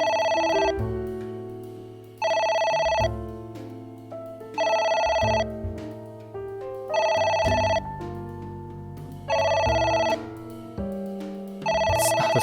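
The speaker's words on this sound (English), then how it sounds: "That's so annoying hearing a ringing phone." A telephone rings in the video game AI: The Somnium Files, with repeated bursts of electronic ringing about every two seconds over a steady musical backdrop, loud and alone with no talking.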